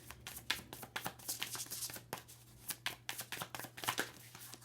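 Rapid riffling and snapping of a deck of cards being shuffled close by, in repeated bursts with a steady low hum underneath.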